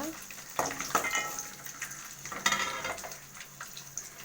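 Beetroot stir-fry being stirred in a hot pan, with steady frying sizzle and intermittent scraping strokes of a spoon against the pan, fairly close and moderate in level.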